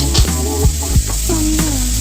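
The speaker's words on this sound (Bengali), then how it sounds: "যতক্ষণ না শুটকি মাছটা ভাজা ভাজা হচ্ছে" Dried fish (shutki) fries in hot oil in a pan, a steady close sizzle broken by sharp scrapes and knocks as it is stirred.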